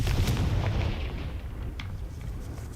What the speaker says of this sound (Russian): Я очень бесшумно сейчас конфринго сделал.